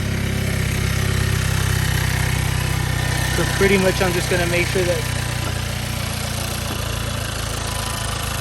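A Hyundai Elantra N engine idles steadily while warming up after sitting, a constant mid-pitched drone close by with someone talking over it.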